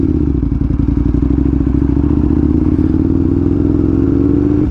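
Aprilia RSV1000R sport motorcycle on the move, a loud continuous engine drone with a gradually rising pitch, close up with wind and mechanical clatter and no talking.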